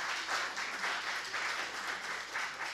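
Steady audience applause fills a conference hall at a talk on crowd-controlling a game with Elixir and Phoenix, dense even clapping from many hands with no voices over it.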